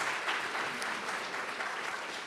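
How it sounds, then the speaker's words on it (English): Steady applause from an audience at a community arts center school board forum, an even wash of clapping that holds at moderate volume for a couple of seconds. "Let's have a hand for Snowda real quick before we get started."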